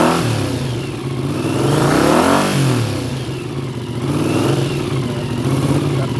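A 1981 Honda CX500 motorcycle engine revs up and down close by, the rising and falling pitch sweeps broken by a momentary bog where the revs falter before climbing again.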